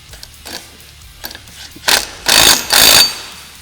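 A castle nut on a Honda ATV front hub being tightened, giving several close, sharp bursts of ratcheting or spinning after a few softer metallic clicks.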